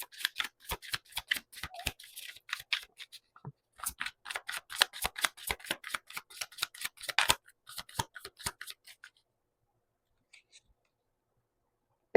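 Tarot cards handled and shuffled close up, a run of crisp snapping riffles and soft slides that fade to quiet near the end.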